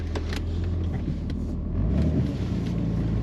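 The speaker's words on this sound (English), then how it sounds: "Let's take it a rip around the yard in the snow." A Jeep Cherokee in four-low rumbles around a snowy yard, its engine a steady low drone with a slight swell toward the end, no voices.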